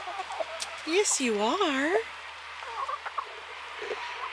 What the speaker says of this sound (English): Isn't he a pretty rooster now?